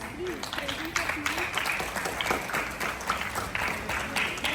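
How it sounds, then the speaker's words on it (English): Students and guests at a school investiture ceremony applaud to welcome the vice head boy. Steady, moderately loud clapping runs throughout, with a voice briefly heard at the start. "extend a warm and resounding applause"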